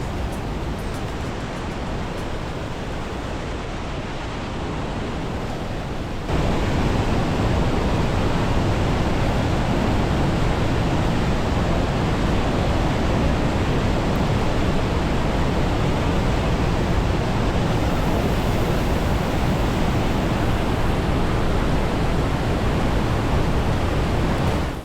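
The Rheinfall waterfall in Switzerland roars from very close by, a dense, steady, full-bodied rush that stays loud and unbroken throughout, swelling slightly after the first few seconds, with no voices.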